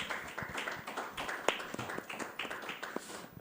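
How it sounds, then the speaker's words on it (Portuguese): A small audience at a senior entrepreneurship panel at a summit in Portugal claps for a speaker, with scattered, distinct claps at moderate level and no talk. "também uma salva de palmas"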